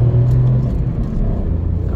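A small car's engine rumbles and pulls steadily as the driver accelerates on the road, a loud, close, continuous drone with a slight rising strain and no talking.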